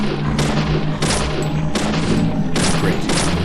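Gunfire in the video game Deadly Premonition, a rapid run of loud, close shots in bursts of four or five, with a low background drone.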